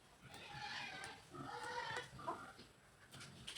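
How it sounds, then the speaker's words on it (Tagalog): Domestic pigs squealing and grunting at feeding time, a busy chorus of overlapping squeals with oinks, moderately close and continuous. "Nag-ingay na po ang ating mga alagang baboy."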